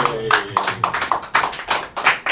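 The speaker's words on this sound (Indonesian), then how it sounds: "Tepuk tangan buat Amir" A small studio audience at a comedy talk show claps for a guest, with a loose series of sharp, close hand claps in an irregular rhythm and a voice briefly audible.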